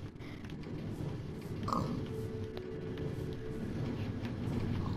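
Pig oinks and grunts from a video game, low and steady, set against a dense, noisy game soundscape with continuous mid-level sound throughout.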